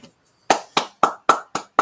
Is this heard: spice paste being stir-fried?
no